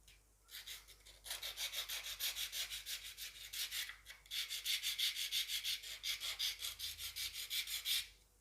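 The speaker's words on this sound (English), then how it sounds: "you simply rub the surface with the file. You can also do the same with the sandpaper" A hand file or sandpaper rubbed back and forth across a surface, close and fairly soft, a steady rhythmic rasping in two long runs split by a short pause, no talk.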